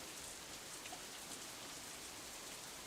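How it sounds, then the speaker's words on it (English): Steady rain falls as a dense, even hiss of many drops in a visual novel scene (Katawa Shoujo), constant throughout with no voices. "I feel the first drop of rain land in the back of my hand."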